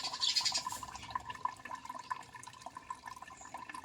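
Cleaned goat tripe sits in a colander as water drains and drips from it, a faint, close trickle with scattered small drops and no talking.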